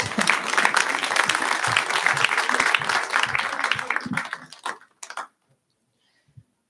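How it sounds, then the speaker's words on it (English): A church congregation applauds its volunteers, dense and sustained clapping from many hands that fades out, leaving a few last claps before falling silent. "give yourselves and these volunteers a round of applause"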